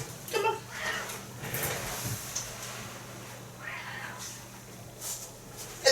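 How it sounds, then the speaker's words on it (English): A house cat meows several times indoors, short faint cries scattered across a few seconds with quiet background noise between them. "The other cat's here now."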